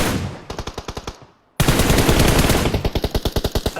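Automatic gunfire in the battle royale game PUBG: two loud, rapid bursts of evenly spaced shots separated by a brief silence, with the second stretch longer and denser.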